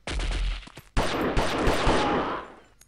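Enemy gunfire in the Delta Force video game, Chad mission: bursts of automatic rifle fire crack close and loud, with a short gap before a longer sustained volley that tails off into quiet.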